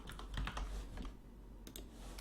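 Computer keyboard keys pressed during PC game setup, a quick run of light clicky taps at moderate closeness, clustered in short bursts with a brief pause before a final few strokes.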